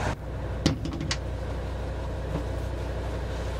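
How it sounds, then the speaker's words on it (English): A door is shut in a fishing boat's wheelhouse, giving one sharp close knock followed by a couple of lighter rattles, over a steady low engine hum that continues afterward. "Shut this door so you can hear me."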